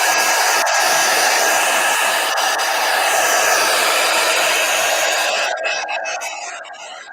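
A hair dryer blows steadily and loudly on a painting to dry it, a continuous close-up whoosh that holds for most of the stretch before tapering and fading slightly near the end.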